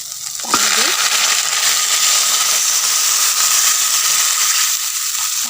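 Water poured into a pan of fish curry with waterleaf sets off a loud, steady hiss and sizzle right at hand, rising suddenly after a brief clink and holding evenly to the end.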